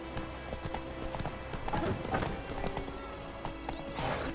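Roach the horse trotting in The Witcher 3, steady clip-clop hoofbeats with an occasional whinny over a game soundtrack in White Orchard.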